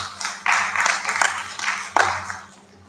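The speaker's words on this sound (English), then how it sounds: "A big round of applause" A seminar audience gives applause for the student scholars who presented papers, a short, sparse burst of clapping with a few sharper individual claps, fading toward the end.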